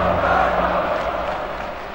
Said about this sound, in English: you'll hear this crowd picking up their team